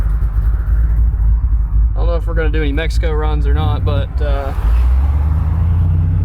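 A muscle truck's engine, fresh plugs in and cutout shut, rumbles steadily and loud from inside the cab during a warm-up shakedown drive, a deep continuous drone with someone talking over it partway through.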